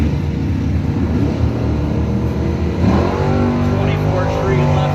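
A Chevy Monte Carlo drag race car roars at the line in a handicap-start race, a steady heavy engine drone that swells and rises in pitch partway through, close and loud under an announcer's voice.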